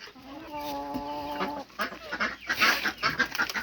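Ducks quack and fowl cluck close by, a drawn-out call followed by a flurry of choppy, overlapping squawks.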